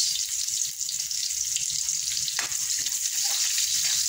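Garlic and onion frying in a pan for pancit canton, a steady close sizzling hiss that runs throughout with faint clinks and stirring, and no voices.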